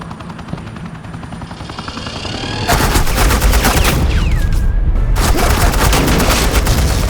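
Suppressing gunfire in Batman: The Enemy Within, a loud, dense rattle of rapid shots that swells abruptly and keeps going with heavy rumbling under it.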